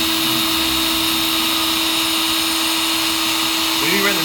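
A Shapeoko 3 CNC router cuts a project, giving a continuous loud high-pitched whine with a steady tone, close and unbroken for the whole stretch.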